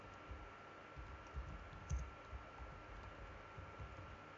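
Light keystrokes on a computer keyboard while typing Java code in Eclipse, a faint, irregular patter of soft clicks with a few slightly harder taps over quiet room hiss.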